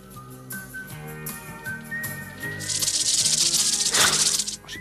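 Rattlesnake rattling in a western cartoon film, a dry buzzing rattle that swells louder near the end over a musical score, with no talk.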